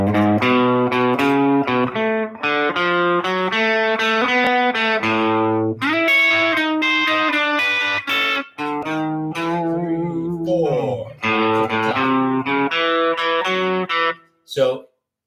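Electric guitar with distortion plays the last four bars of a blues progression into a turnaround, dense sustained notes and bends, loud and close, ending with a short final hit.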